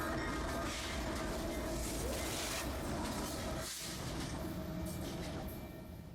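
CPKC Southern Belle passenger train rolls along the rails near Beaumont, a steady broadband rumble and rattle of wheels heard from close by, fading slightly toward the end with no voices.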